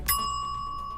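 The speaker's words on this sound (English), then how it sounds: "Bell." A single bright bell ding rings out sharply and then sustains with a long, steady ringing tail, loud and clear with no voices.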